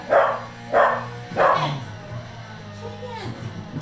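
Several dogs bark in loud, separate bursts, three strong barks followed by softer yips and whimpers, with a voice talking over them at times.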